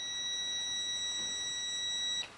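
A steady high electronic tone holds for about two seconds and then cuts off, with a quiet background and no talking.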